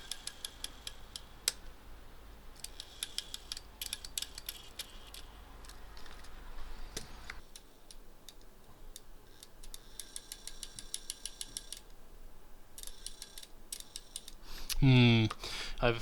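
A Sony WM-F65 cassette player's mechanism, suspected auto-stop, clicks and ticks in a quick, irregular run of close, faint mechanical taps, with a louder rattling burst near the end.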